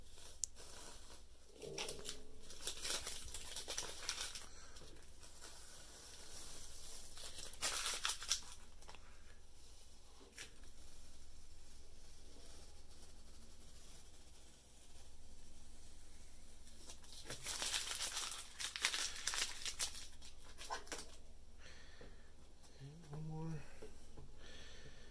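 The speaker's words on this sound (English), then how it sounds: "just gonna remove that tape" Masking tape peeled in several rasping, tearing strips from the paper of a watercolor painting, close and fairly loud, with a quiet voice in the background at times.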